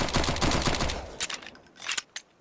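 Rapid burst of PM gunfire in the survival game Sunkenland, a fast run of sharp shots that thins into scattered single cracks toward the end.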